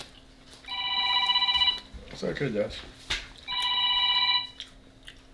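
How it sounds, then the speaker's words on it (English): A telephone rings twice in a kitchen under renovation, each ring a bright electronic burst, with a person speaking briefly between the rings. "phone ring."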